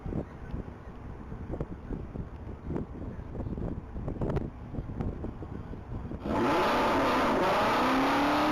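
A 2012 Ford Mustang GT launches from the line at a top-speed mile event, its engine bursting in loud and close with rising revs after a stretch of gusty wind buffeting and distant rumble.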